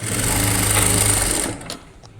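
Sewing machine running steadily as it double-stitches lace onto a net cloth gown, a loud continuous whir that stops abruptly after about a second and a half, leaving faint quiet handling noise.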